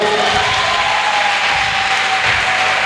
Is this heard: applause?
yes